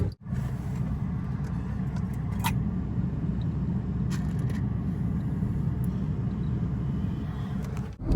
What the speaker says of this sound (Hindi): गाड़ी में बैठ के हम निकल पड़े हैं दिल्ली की तरफ भाई, इलेक्ट्रिक कार से।